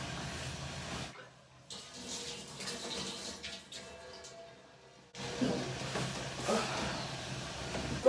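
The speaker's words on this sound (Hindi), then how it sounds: "पहले मैं हाथ धो के आती हूँ।" Tap water runs as hands are washed at a sink at home, a soft hissing stream that stops briefly in the middle and then resumes, faint and unaccompanied by talk.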